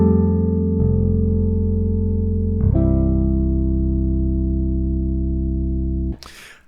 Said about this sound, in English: now you're playing both the bass and the piano at the same time